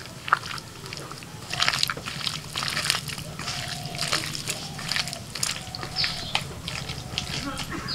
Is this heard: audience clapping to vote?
no